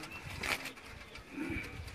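A black-faced Sialkoti pigeon with a purplish throat gives soft, low coos close by, two brief calls over steady background noise.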